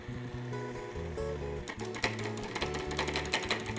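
A food processor blade whirs steadily, running continuously as it blends hummus ingredients, warming and loosening the mix before garbanzo beans are added; loud, mechanical and up close, with no talk.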